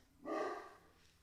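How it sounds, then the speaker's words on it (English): A single dog bark rings out, short and moderately loud, somewhat distant, with quiet room tone before and after. "Otis is barking."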